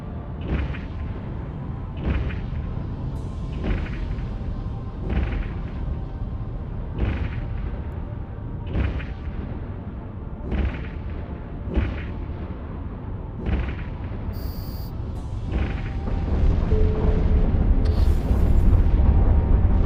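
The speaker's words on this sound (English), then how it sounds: "Activate your primary weapon to destroy the generator." Repeated primary weapon fire from a ship in Eve Online, pounding a generator: about nine evenly spaced heavy booming shots over a steady low rumble, with the rumble swelling louder toward the end.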